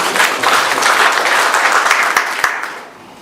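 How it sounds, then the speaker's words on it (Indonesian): A church congregation at a Sunday worship service claps together, loud sustained applause filling the hall before tapering off at the end. "Berikan tepuk tangan."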